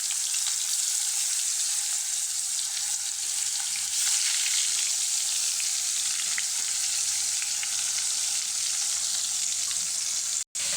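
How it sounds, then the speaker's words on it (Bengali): Pangas fish sizzle as they fry in hot oil, a loud, constant crackling hiss with a sharp spattering pop near the end and no talking. "তেলটা গরম হয়ে গেছে, মাছগুলো আমি দিয়ে দেবো। পাঙ্গাস মাছটা কিন্তু এমনি ছিটে,"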